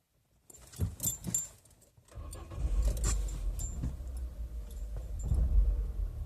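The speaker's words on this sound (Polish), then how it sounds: "No i widzimy jak trzęsie całym samochodem praktycznie falują obroty" Peugeot car engine with a rough, uneven idle, heard after a jingle of keys as it cranks and catches, then a low rumbling idle that wavers and shakes the whole car, close up with no talk.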